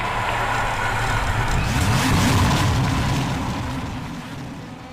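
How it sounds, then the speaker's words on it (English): Pro Mazda race cars scream around an oval in a racing video game at the WWT Raceway round of an esports series, a continuous loud engine roar that swells as the pack passes and then fades slightly, with no talk. "The Pro Mazda screaming around virtually."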